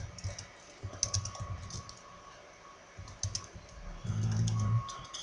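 A computer keyboard is being typed on in short bursts of light clicking, close but fairly quiet, with a low hum and faint background noise between the runs of keystrokes.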